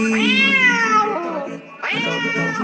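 Two long, loud meows from a cartoon cat with a long-haired coat, the first stretched and wavering, the second starting after a brief gap and rising again, with no speech over them.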